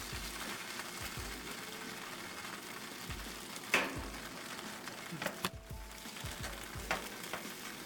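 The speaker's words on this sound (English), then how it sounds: "we got a little sizzling going on." Dollar Tree cheese, American, Swiss and jalapeno varieties, sizzles in a hot pan with a steady, faint crackling hiss, broken by a few scraping and clattering utensil sounds, with no voices.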